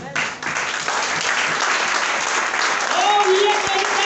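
A church congregation breaks into sustained, dense applause that stays loud and even throughout, with a few voices and cheers mixed in during a worship service.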